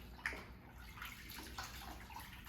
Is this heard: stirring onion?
no